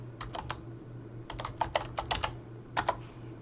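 Typing on a computer keyboard, a short run of close, light key clicks in quick irregular clusters over a low steady hum, with no voices.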